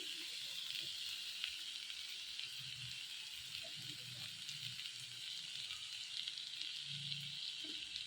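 Fish pieces fry in oil in a pan, giving a steady, even sizzle with a bright hiss throughout and a few soft bubbling pops underneath.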